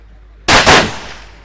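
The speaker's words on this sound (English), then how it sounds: "Or no, sorry, he's shooting a 300 PRC." A single rifle shot from a 300 PRC rings out at a long-range shooting match. A sharp, loud crack is followed by a quick second burst and a fading echo tail, with quiet before it.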